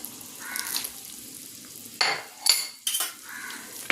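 A ginger and dates pickle mixture is stirred in a pan, giving a soft sizzle punctuated by several loud spoon scrapes and clinks against the pan.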